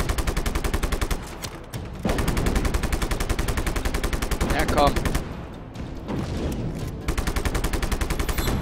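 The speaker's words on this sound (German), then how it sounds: "Wer schießt denn?" Rapid, continuous machine-gun fire from a video game rattles on loudly in long bursts with brief pauses, voices faintly underneath.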